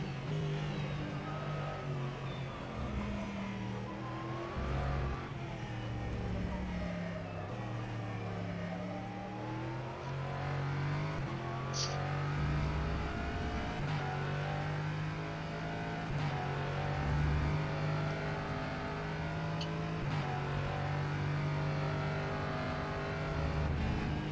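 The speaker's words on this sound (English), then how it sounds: "Now we're racing the LMP3 car around Silverstone" An LMP3 race car engine lapping Silverstone in the rFactor 2 racing game, droning steadily with repeated rises and drops in pitch as it revs through the gears, heard alone without talk.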